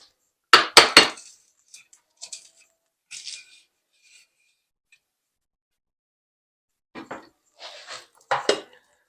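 Dessert slice of chocolate, ginger and pear festive pudding set onto a plate: a few sharp clinks and knocks of crockery up close, grouped at the start and the end with quiet gaps between, no talking.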